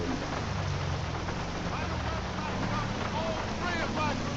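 Steady rain in GTA V falling over a game scene, a dense continuous hiss with faint low engine rumble underneath, no speech.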